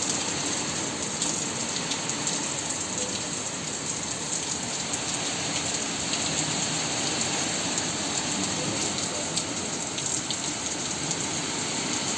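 Heavy rain pours down steadily for the whole stretch, a dense, loud hiss of drops hitting surfaces with no letup.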